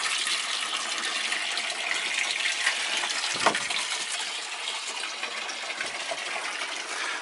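Water gushes steadily into a spray tank that still holds leftover Surround residue, a broad continuous rushing hiss at close range with no talk over it.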